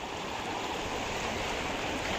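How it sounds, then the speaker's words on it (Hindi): A flooded, brimming river rushes past in a dense, continuous roar of flowing water, loud and steady throughout with no voices. "जब पूरी भर जाती है नदी पूरी, तब क्या हाल होता है वो देखो।"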